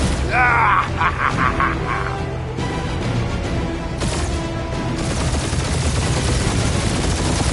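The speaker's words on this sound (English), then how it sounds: "We're taking fire!" Gunfire and blasts in a Marvel's Guardians of the Galaxy space battle, a dense continuous fusillade with booms and mechanical noise over a roaring backdrop throughout.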